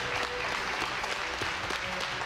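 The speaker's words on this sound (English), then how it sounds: "greeted with a round of applause" Steady crowd applause fills an arena after the ACA 114 heavyweight title fight between Daniel Omielanczuk and Tony Johnson. Dense, continuous clapping mixes with crowd noise throughout.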